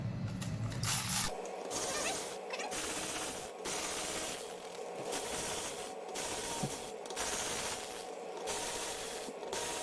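A ratchet runs down the cylinder head bolts on a MINI Cooper N12/N16 engine, a quiet close mechanical clicking that repeats in short bursts over a faint steady background, with no voices.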